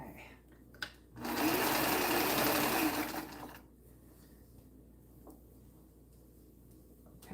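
A sewing machine stitches fabric in one close, steady, rapid burst of about two seconds. It stops cleanly, followed by quiet room tone and faint handling.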